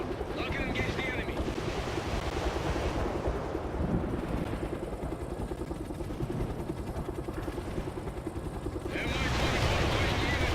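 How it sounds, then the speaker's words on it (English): An Mi-24 heavy attack helicopter flies at full speed in the war video game World in Conflict, a loud continuous rotor and engine roar, with mixed radio voices and battle effects over it. "Mi-24 going in at full speed."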